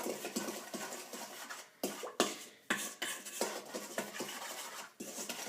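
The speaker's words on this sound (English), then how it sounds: "take a spoon and just mix those ingredients together" A spoon mixes Italian seasoning with other ingredients for garlic rounds in a bowl, making quiet, rapid clinks and scrapes in an irregular rhythm with brief pauses.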